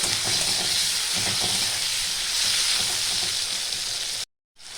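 Salted tomatoes fry in a hot pan for a mustard rohu fish curry, giving a dense, steady sizzle and crackle close up that cuts off abruptly near the end.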